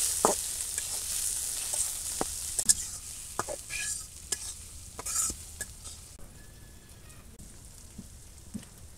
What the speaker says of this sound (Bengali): আগে আমি চিংড়ি মাছটা আর পেঁয়াজ কুচিটা ভাজা ভাজা করে নিই।